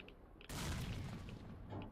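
A grenade goes off in STALKER: Shadow of Chornobyl, a single sudden loud blast at about half a second that keeps rumbling and rolling for over a second before easing off.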